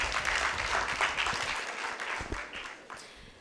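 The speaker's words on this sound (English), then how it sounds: "A round of applause for them." Audience applause at a school debate tie-breaker between two high schools, a dense patter of many hands that slowly thins and fades toward the end.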